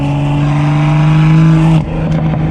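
A BMW M2 with a six-speed manual accelerating hard in third gear, a loud, close engine drone holding steady before a sudden drop in pitch as the throttle lifts or the gear changes near the end.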